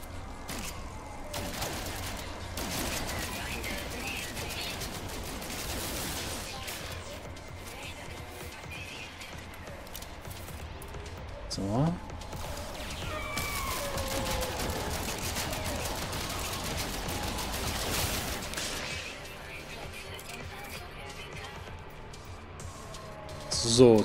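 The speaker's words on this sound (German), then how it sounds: "So, komm her, du Wächter. Ich knall dich jetzt mal ab." Gunfire in No Man's Sky aimed at a sentinel comes as bursts of rapid shots and impacts over game noise, with someone talking throughout.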